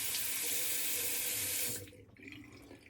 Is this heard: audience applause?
no